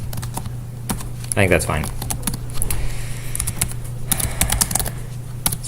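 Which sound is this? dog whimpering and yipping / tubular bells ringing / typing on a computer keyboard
typing on a computer keyboard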